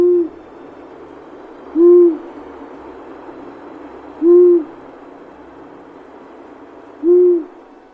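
Long-eared owl calls as three single, drawn-out low hoots, evenly spaced about two and a half seconds apart, clear and fairly close above a faint steady background hiss.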